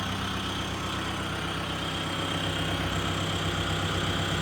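A Kubota tractor engine idles steadily and loudly, a dense mechanical rumble with no break or change in pace.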